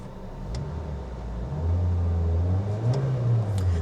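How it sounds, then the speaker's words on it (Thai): A 2020 Honda Jazz 1.5 engine revs up from a steady idle, the low rumble rising and holding higher, close by with no talking. "มาลองเล่นเครื่องกันหน่อยฟังเสียงเครื่องยนต์กันนิดหนึ่งนะครับ"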